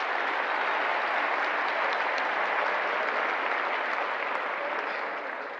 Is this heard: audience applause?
yes